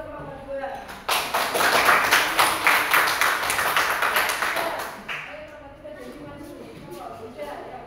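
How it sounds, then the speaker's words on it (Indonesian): A group of students in a classroom applauds together for about four seconds of dense, steady clapping that then fades out, with voices murmuring before and after. "Tepuk tangan untuk kelompok 2."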